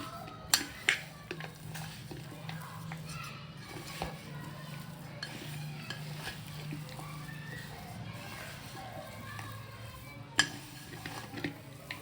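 Prawns are mixed with pakodi ingredients in a bowl, giving soft wet squelching and stirring with occasional light clinks against the bowl, close and quiet.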